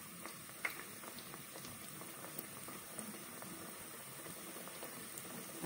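Samosas fry in oil with a soft, continuous bubbling hiss and light crackle, fairly faint and steady, with a few small pops and clicks scattered through.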